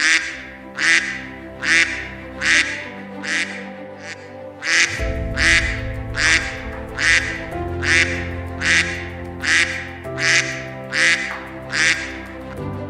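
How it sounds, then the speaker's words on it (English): A duck-like quack repeats in a steady, evenly spaced alarm rhythm over a low musical drone, loud and insistent throughout. "suddenly, the alarm quack started going off"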